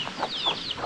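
A chicken being chased makes a few quick clucks and squawks close by, short bursts spaced through the brief moment.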